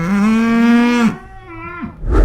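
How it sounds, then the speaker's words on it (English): Cows moo loudly and close by, one long drawn-out low call followed by a shorter second moo, with a brief rustle at the end. "lots of cows here"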